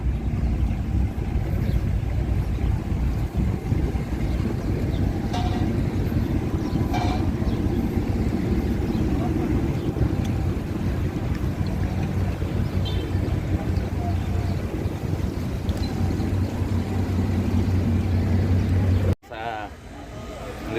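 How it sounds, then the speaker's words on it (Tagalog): A yacht motoring across the sea off Turkey, its steady low engine drone and water rush filling the scene loud and close, with people talking over it before the sound cuts abruptly near the end. "Lalarga na yung yate natin na sasakyan."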